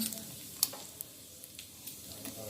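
Cumin seeds fry in hot oil in a pan, giving a soft continuous sizzle dotted with small crackles and pops. It is fairly close and fairly quiet, with no talk over it.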